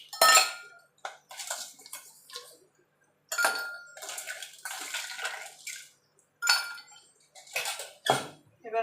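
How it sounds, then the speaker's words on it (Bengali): Ice cubes dropped one after another into two glass tumblers for a chilled roasted-mango sharbat, with a series of sharp, close clinks and rattles separated by short pauses. "এবার কাঁচের গ্লাসে আমি আইস দিয়ে দেবো।"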